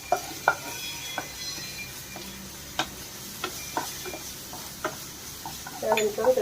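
Ginger garlic paste hits onions browning in a pan for Punjabi-style okra, with a low steady sizzle beneath scattered sharp clicks and scrapes of a spoon stirring against the pan.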